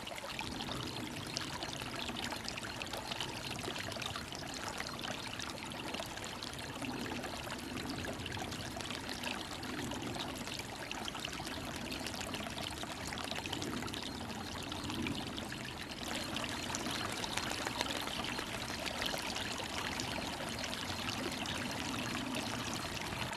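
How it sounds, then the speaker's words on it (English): A stream flows steadily behind a hiker on an autumn trail, a continuous, fairly close rush and trickle of water that holds even for the whole stretch with no talking. "hopefully you guys can hear the stream behind me."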